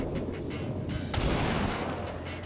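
A sniper rifle shot in the turn-based strategy game XCOM 2: one sharp crack about midway, rising out of a steady rumbling battle ambience.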